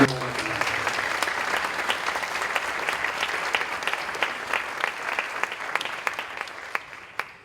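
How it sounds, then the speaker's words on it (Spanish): An audience at an international summit of environmental prosecutors claps for the collaborators in a dense, sustained round that gradually thins into distinct separate claps toward the end. "Y yo, por favor, pediría un aplauso para ellos"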